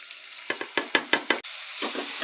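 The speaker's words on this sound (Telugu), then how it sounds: "ఉల్లిపాయలు, పచ్చిమిరపకాయలు, కరివేపాకు నూనెలో వేసేసుకోవాలి." Onions, green chillies and curry leaves dropped into hot oil for a mutton chana dal curry, sending a series of sharp bursts of sizzling spatter about half a second apart, then a brief pause and a softer renewed crackle.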